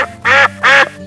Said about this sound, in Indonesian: Raja Angsa pun mengeluarkan suara jeritan burung yang tertangkap